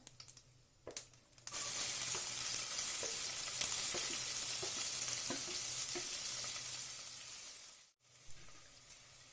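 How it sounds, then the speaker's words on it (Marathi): Chopped onion frying in a hot pan for matar aloo, a steady loud sizzle that rises suddenly and holds, with a few stirring clicks and a brief dip near the end. "थोडी तडतडल्यानंतर आपण त्याच्यामध्ये कांदा टाकतो एक बारीक कांदा घेतला आहे मी बारीक चिरून"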